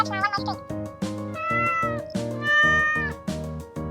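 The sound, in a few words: small kitten meowing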